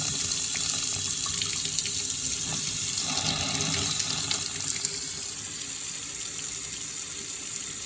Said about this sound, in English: We're gonna run some water into here and we're gonna see if this sink works.